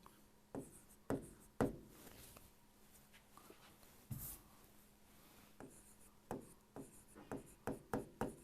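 A pen writes on paper at a desk, making soft scratchy strokes in short bursts with brief pauses and a quicker run of strokes near the end.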